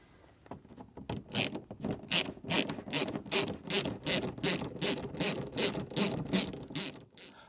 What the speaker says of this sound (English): to undo those nuts, we need a 10mm socket